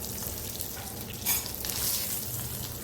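Asafoetida and spices frying in hot oil for a pappucharu tempering: close, continuous sizzling and crackling with a couple of sharper bursts as the pan is stirred, and no voices.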